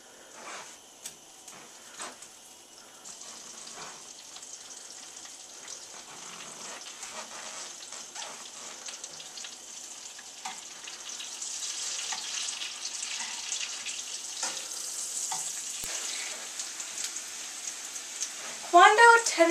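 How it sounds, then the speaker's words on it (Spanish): Plantains fry in butter in a pan with a continuous soft hissing sizzle that slowly grows louder, with a few light utensil clicks and a louder clatter at the end. "sauté o fría los plátanos en mantequilla"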